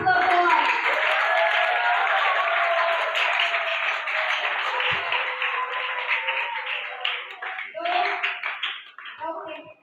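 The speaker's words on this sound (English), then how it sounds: "Can we once again clap for the rest of the boys?" School townhall audience clapping for a group of boys at a reward and recognition programme, a sustained burst of many hands mixed with lively voices and cheering, loud at first and thinning toward the end.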